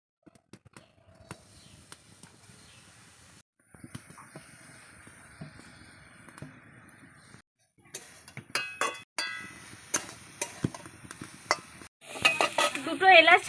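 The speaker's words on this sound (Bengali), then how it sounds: "উনুনটা ধরিয়ে নারকেলটা ছানি মেরে নেব।" Grated coconut stirred in a pan on a Bengali kitchen stove for a pitha sweet, a quiet irregular scraping and clinking of a utensil against metal that grows busier and louder toward the end.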